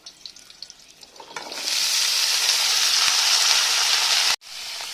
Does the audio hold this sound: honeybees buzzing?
no